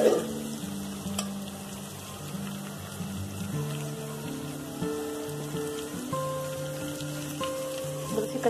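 Ginger and garlic frying in a pan, a constant crackling sizzle with occasional stirring scrapes and a sharp clink near the start, close and moderately loud, while a faint tonal hum shifts in the background.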